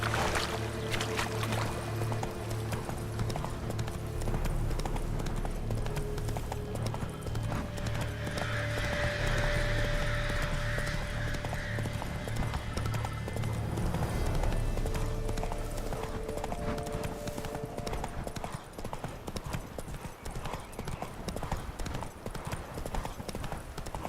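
In The Witcher 3: Blood and Wine, the horse Roach gallops with dense, continuous clip-clop hoofbeats, close and loud for the whole stretch over a low ambient hum and game music, with a whinny partway through.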